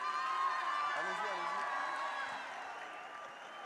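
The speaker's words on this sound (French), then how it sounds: "je vous demande d'applaudir tous ceux qui sont passés là sur scène" A large crowd applauds and cheers at the Lycée in Rocks festival in the Zénith de Toulouse concert hall, a dense continuous roar of clapping with a voice over it, slowly fading toward the end.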